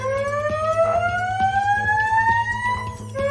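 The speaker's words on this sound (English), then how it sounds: "Fire alarm." A fire alarm wails in a workshop where a drag-racing car is being fitted with an insulation kit, a continuous rising siren tone over a low steady hum and intermittent clicks.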